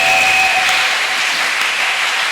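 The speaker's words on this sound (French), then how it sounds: "Acclamons le Seigneur Jésus" Church congregation at a Sunday service applauding: dense, steady clapping from many hands filling the room, fairly loud, with a faint sustained tone fading early on.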